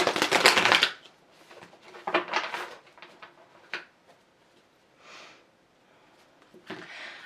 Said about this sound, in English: let's also pull some tarot cards